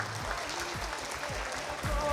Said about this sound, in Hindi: तालियां जरा और होनी चाहिए।